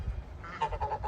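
Geese on a farm give a few quick honks, nasal and moderately close, over low background rumble.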